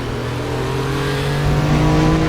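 Loud and close, the 3.6-litre flat-six of a Porsche 911 Carrera Classic revs hard in the RaceRoom racing game at Bilster Berg, a steady engine tone climbing in pitch as it accelerates.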